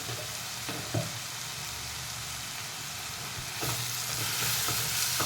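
Tomato masala frying and being stirred in a pan, a steady close sizzle with occasional scrapes and clinks of the spoon, growing a little louder toward the end.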